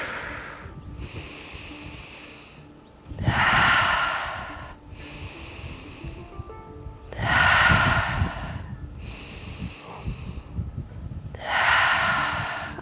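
Slow breathing during a yoga stretch, with several loud, close, breathy exhales and inhales in a steady rhythm a few seconds apart and no speech.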